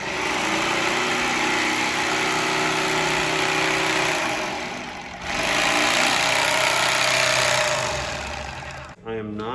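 A handheld jigsaw runs continuously at varying speeds and cutting pressures, a loud steady motor whine that dips midway and cuts off near the end.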